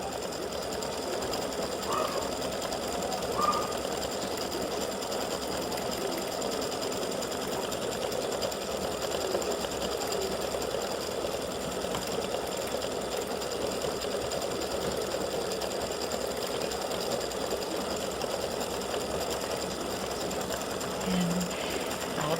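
An embroidery machine stitches a St Patrick's Day hat design as a steady, continuous mechanical whir with a rapid needle rhythm, running alone at moderate loudness throughout.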